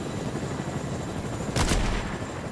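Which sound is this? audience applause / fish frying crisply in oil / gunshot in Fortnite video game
gunshot in Fortnite video game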